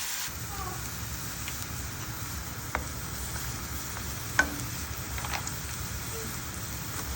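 Chopped onion sautéing in leftover oil for cauliflower Manchurian, a steady low sizzle and fry hiss running throughout, with a couple of faint utensil clicks against the pan.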